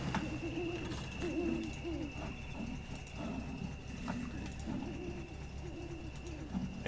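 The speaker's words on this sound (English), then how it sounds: "And here an owl hooting." An owl hoots repeatedly in the video game Spintires, steady low calls over a constant engine-like drone and a thin high tone, with no talk.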